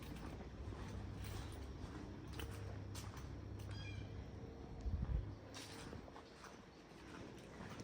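A house cat meows indoors at home, a couple of short calls over a steady low hum and room noise, with no one talking.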